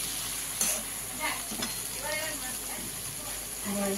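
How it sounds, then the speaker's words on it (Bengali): Lotti kochu (taro stolons) with beans fry and get stirred in a pan, a low sizzle under intermittent spatula scrapes, while a voice talks over it. "এবার আমি আলগা করে ভাজা ভাজা করব, একদম রস টানিয়ে ভাজা হয়ে যাবে।"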